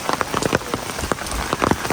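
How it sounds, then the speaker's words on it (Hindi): Heavy rain pounding down during a cloudburst in Shimla, a dense continuous roar of drops striking surfaces with sharper individual splashes popping through, close and loud, with no voices. "एक तो बारिश एकदम से इतनी ज़्यादा पड़ने लगी है"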